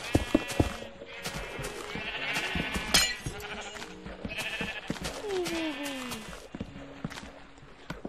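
Minecraft sheep bleat in quick succession amid a busy farm soundscape of other animal calls and clopping, with game effects layered throughout; no one speaks.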